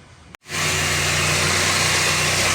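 A Chevrolet Malibu engine fitted with a new catalytic converter, a loud steady roar that kicks in abruptly after a brief dropout and holds at a constant high rev.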